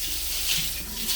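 Tap water spraying hard through a narrowed opening, a steady close hiss with no talk.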